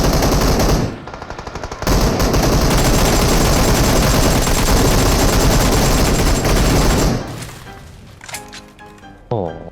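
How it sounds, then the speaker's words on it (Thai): Loud rapid bursts of PUBG Mobile automatic gunfire, sustained for several seconds, then tapering into scattered shots and a few sharp cracks near the end. "เมื่อกี้เหมือนมีเสียงปืนปะเออจะปืน"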